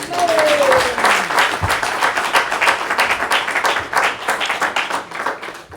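Church congregation applauding during a French-language worship service, a dense steady wash of clapping across the whole span with a brief falling tone at the start and no voices over it.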